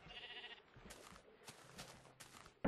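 Minecraft sheep giving a few short bleats, mid-loud and close, separated by brief gaps with no talking over them.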